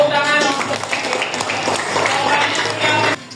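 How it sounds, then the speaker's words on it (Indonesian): A school class gives a short burst of applause, scattered hand claps blending into a brief wash of clapping with voices mixed in, ending abruptly. "Tepuk tangan."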